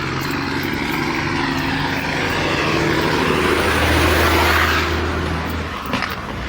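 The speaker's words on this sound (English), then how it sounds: "another loud truck." A loud truck passes close by, its broad engine roar swelling to a peak and then easing away over several seconds, with no talk over it.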